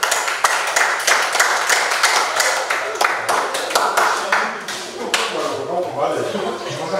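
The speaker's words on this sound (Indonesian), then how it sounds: "tepuk tangan untuk kita semua dulu" A classroom group claps together during a teaching practice session, a rhythmic run of distinct hand claps, fairly close, giving way to voices talking over the last couple of seconds.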